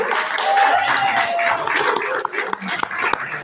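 Wedding guests cheer and clap for the best man in a dense, continuous wash of applause and whoops that stays loud throughout, with sharper individual claps standing out near the end.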